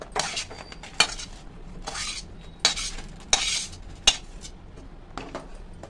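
Cooked mava katli mixture is scraped from a pan onto a ghee-greased steel plate: a series of sharp metallic clinks and scrapes, about six distinct knocks spaced irregularly, close and moderately loud with no talking.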